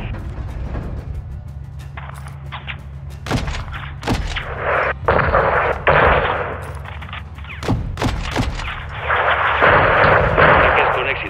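Artillery strike on a convoy in the video game Call of Duty Modern Warfare 2 (2022), with loud repeated booming impacts and sharp gunfire bursts over a continuous low rumble, building to dense explosions at the end.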